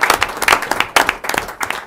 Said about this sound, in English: Dan deserves a round of applause for what he's done